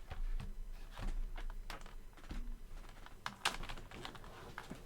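Rapid, uneven keystrokes on a computer keyboard clatter close by in a steady patter of sharp clicks, with no talking.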